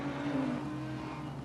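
Porsche Cayman GT4 race car engine in the Assetto Corsa Competizione racing game at Brands Hatch, a steady droning engine note held at constant pitch for a moment, moderately loud with no talk.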